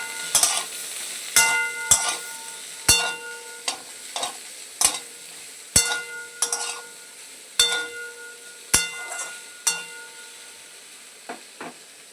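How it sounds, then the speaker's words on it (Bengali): Ridge gourd frying with potato and pointed gourd in a pan: a steady low sizzle under a dozen or so sharp, evenly spaced spatula clinks as the vegetables are stirred, close and clear with no voices. "ঝিঙেটা ভাজতে বেশি সময় লাগবে না।"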